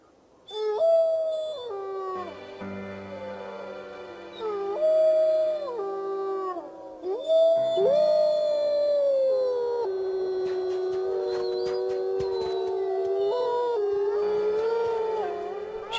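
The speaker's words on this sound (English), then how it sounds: "accumulating an archive of the pack's howls" A wild wolf pack howls in long, rising and falling wavering tones, several voices overlapping and sustained close and loud, with no one talking.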